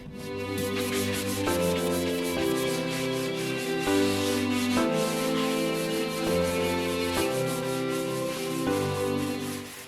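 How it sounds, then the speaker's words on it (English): Torn drywall is sanded by hand in a steady back-and-forth rubbing rhythm of about six strokes, scratchy and loud under a continuous music bed. "Sanding the torn drywall is crucial in making sure everything is smooth"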